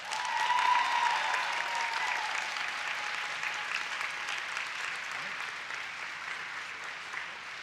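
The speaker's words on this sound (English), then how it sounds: "Another round of applause." Sustained audience applause fills a graduation-style academic excellence awards ceremony at Montgomery College in Maryland, a steady dense wash of many hands clapping that gradually eases over several seconds, with no talking.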